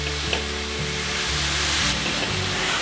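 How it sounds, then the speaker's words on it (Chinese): Carrots and enoki mushrooms stir-fry in a hot pan with a loud, continuous sizzle and occasional stirring scrapes, close up and with no talk. "现在放入金针菇，把金针菇炒软"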